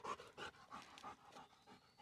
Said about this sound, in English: And pig dog running through.